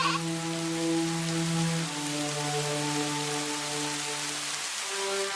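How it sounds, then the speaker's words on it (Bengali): Steady rain drumming on a surface near a goat shed at night, a dense continuous patter that fills the whole stretch, with tonal hum lines running underneath and no voices. "বৃষ্টি হচ্ছে, ওই ঘরে তো পানি পড়ে।"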